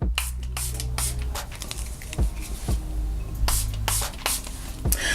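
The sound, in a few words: Milani Make It Dewy setting spray sprayed on face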